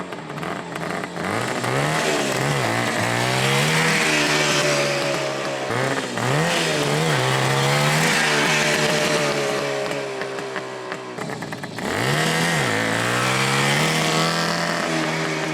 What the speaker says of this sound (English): I went out on a solo motorcycle without a sidecar.